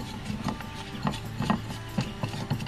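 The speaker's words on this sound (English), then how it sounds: "Just take your wrench here and just tighten it down." A wrench tightening bolts down onto a plate while building an aerial: close, rhythmic ratcheting clicks and metallic knocks recurring about every half second over a faint background hum.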